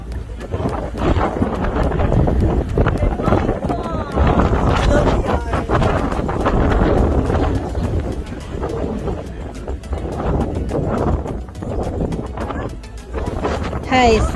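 Strong wind buffets the microphone and rough waves slap against a tour boat on the Santorini caldera, a loud, continuous rumble with voices faintly beneath it.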